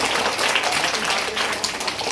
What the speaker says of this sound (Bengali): জোরে হাততালি দিয়ে আরেকবার পালবাবুকে